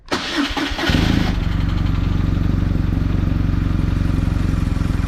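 A BMW R 1200 GS motorcycle engine cranks and catches, then settles into a loud, steady, close idle with an even pulsing throb.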